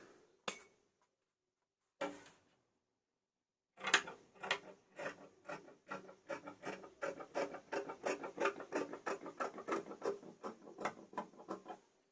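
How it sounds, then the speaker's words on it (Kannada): Scissors cut through cotton blouse lining fabric: two isolated snips, a short pause, then a quick run of close, rhythmic crisp cuts that continue to the end. "ಇದು ಲೈನಿಂಗ್ ಆಗಿ ಕಾಟನ್ ಲೈನಿಂಗ್ ಆಗಿರೋದ್ರಿಂದ ತಿರುಗಿಸ್ಕೊಂಡು ಕಟ್ ಮಾಡ್ಕೊತಾ ಇದ್ದೀನಿ"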